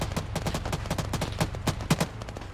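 Dense, rapid gunfire in the ARMA 3 military shooter game, with overlapping bursts of automatic fire and sharper single reports crackling continuously over a steady noisy battlefield background.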